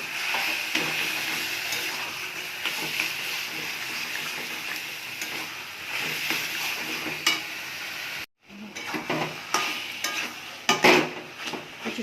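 Turmeric, chili, cumin and coriander sizzle in a hot pan while being stirred, a continuous hiss with scraping and clinks of the spoon, close by and with no speech.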